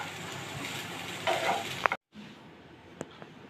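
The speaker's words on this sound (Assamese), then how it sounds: "ভালকৈ লৰাই ল'ম।" A spatula stirs egg and paneer fried rice sizzling in a hot pan, with a continuous frying hiss, scraping strokes and a sharp clink, then a brief pause before quieter sizzling resumes.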